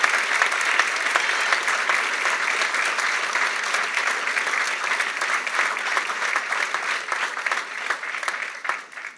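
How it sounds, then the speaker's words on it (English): A large audience at a school awards ceremony applauds steadily, dense clapping filling the room for several seconds before tapering slightly at the end. "if we could give them a big round of applause"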